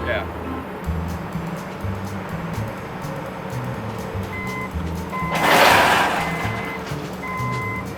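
A new warehouse forklift moves with its engine idling low and a steady string of reversing beeps. A brief hiss of air bursts out partway through, and voices talk over it.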